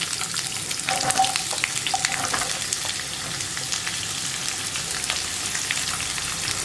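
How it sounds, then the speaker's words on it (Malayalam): Sliced onion frying in hot oil with ginger for an onion curry, a loud continuous close sizzle with faint stirring clicks, no voices. "ഇനി നമ്മളിതിലേക്ക് ചേർക്കുന്നത് നമ്മൾ കട്ട് ചെയ്ത് വെച്ചിരിക്കുന്ന സവോള."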